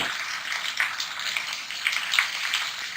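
Ginger garlic paste, red chili powder and turmeric fry in hot oil for biryani masala, giving a steady, close sizzle with small crackling pops throughout.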